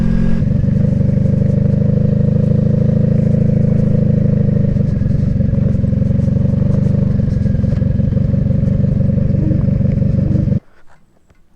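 A 1986 Honda Magna V45 motorcycle engine runs loud and steady while riding, a dense rumbling drone that cuts off abruptly near the end.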